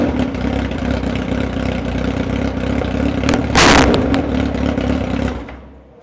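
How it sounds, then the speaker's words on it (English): A motorcycle engine runs indoors in a steady, loud idle, swells in one brief sharp rev midway, then is cut off and dies away to quiet at the end. "just start it up and give it one good rev and then kill it."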